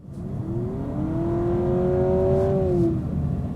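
A Honda Civic Hybrid engine revs up under acceleration in sport mode, its tone climbing smoothly to a peak then dropping, a loud sustained roar with no talking.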